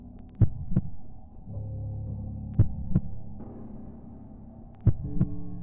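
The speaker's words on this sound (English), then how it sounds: "feel the sound of his heart beat against his chest." Heartbeat sound effect: three spaced pairs of deep lub-dub thumps, loud and close, over a low droning hum with no voices.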